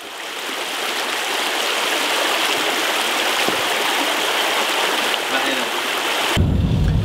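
The Julius River in Tasmania's forest flows steadily close by, a continuous broad rushing wash of water with no pauses, louder and deeper at the very end.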